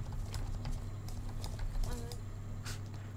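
Horse hooves clip-clop at a walk in the online horse-riding game Star Stable Online, a quiet, regular rhythm of light steps over a steady background hum.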